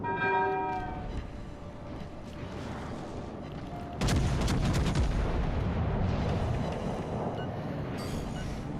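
Naval guns on HMS Agincourt firing in World of Warships: Legends, a sudden loud booming volley after a stretch of steady engine-like rumble and tonal hum, followed by sustained rumbling.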